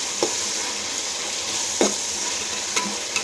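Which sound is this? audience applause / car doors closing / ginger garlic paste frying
ginger garlic paste frying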